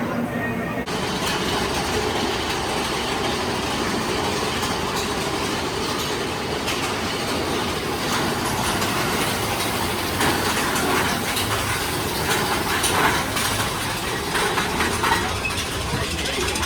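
A roller coaster at Walt Disney World's Magic Kingdom rattles and roars continuously along its track, a dense clattering rush with voices faintly mixed in.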